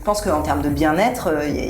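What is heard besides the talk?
None of the usual background noises is heard.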